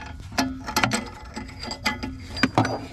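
A ratchet tightening an O2 sensor on a 2014 Chevrolet Malibu LT gives quick clicking bursts of pawl ticks in short irregular strokes, close and crisp, with no talk.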